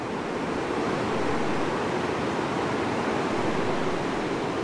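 Massive waterfalls of Murchison Falls on the Victoria Nile in Uganda, heard as a steady, loud, broadband roar of rushing water that holds constant without pause and with no voices.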